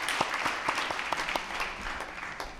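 A church congregation at a Sunday afternoon service breaks into applause, a dense patter of many hands clapping steadily close by in a large room.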